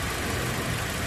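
A Toyota Rush engine idles steadily after repair, producing a constant, close mechanical hum with no stumbles or surges.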